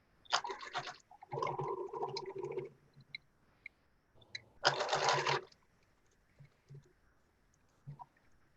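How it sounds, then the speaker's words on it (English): A sewing machine stitches straight quilting lines across a mask made from a t-shirt, running in three short bursts with brief pauses between them and quiet stretches after. "So I'm just going to sew straight lines where my pin mark is, just to give it a little quilting"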